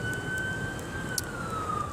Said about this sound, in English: I hate sirens.